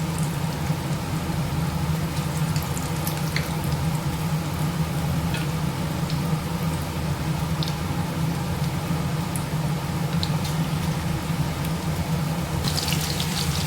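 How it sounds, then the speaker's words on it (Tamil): Chicken 65 deep frying in hot oil with curry leaves, a dense continuous sizzling hiss, steady and close, with occasional small pops and no talking. "இப்போ எண்ணெயும் இருக்கு நம்ம பொறிச்சு எடுக்கலாம்"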